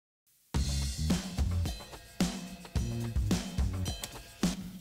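Drums and bass sent together through a Fairchild-style compressor on a parallel bus and heard on their own, a heavily squashed groove of punchy kick hits and pumping bass with dense, crushed cymbal wash, steady and loud.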